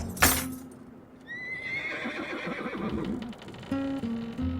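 A horse named in The Road to El Dorado gives a loud, close whinny after a sharp opening hit, with a rising then trailing neigh and some clip-clop and movement sounds toward the end.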